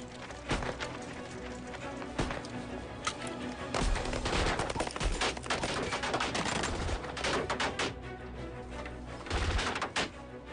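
Gunfire in a war film, rapid bursts and scattered single shots crackling loudly and nearly continuously with occasional heavier thumps, without speech.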